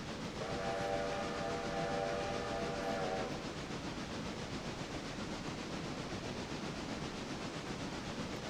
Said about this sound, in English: How about one more whistle for that station?